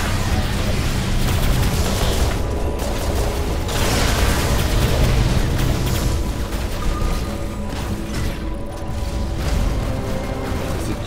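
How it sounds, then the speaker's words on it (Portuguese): Continuous loud weapon fire and booming impacts from a War Robots battle, including an ice-firing weapon, dense and sustained throughout with mechanical clanks and thuds layered in. "Esse tiro do gelo tira pra caramba"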